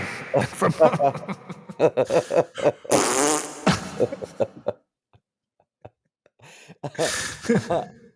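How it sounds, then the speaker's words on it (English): A man farts with a loud, buzzy, drawn-out blast amid lively talking, followed by quiet and then more speech from several people. "That's actually me farting."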